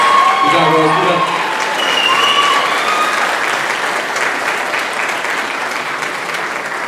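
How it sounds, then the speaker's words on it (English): Strong, steady applause from an audience at a school band banquet honoring three girls, dense clapping that starts loud and tapers gradually over several seconds. "Please give them a round of applause."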